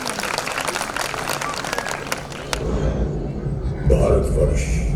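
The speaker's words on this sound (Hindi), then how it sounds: "जोरदार तालियों से स्वागत करें उनका।" Audience applause at a school annual function greets a class 4 group about to perform a Rani Lakshmibai story; dense clapping fills the hall, then thins into crowd rumble and murmur with a louder swell near the end.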